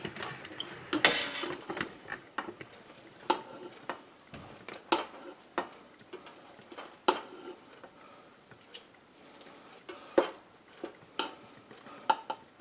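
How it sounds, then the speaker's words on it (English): Black-eyed pea and sausage jambalaya is stirred and scooped out of a rice cooker pot: repeated close scraping and soft clinks of a spoon against the pot, in irregular strokes over about twelve seconds, with no talk. "we're going to stir the pot. And dish some out."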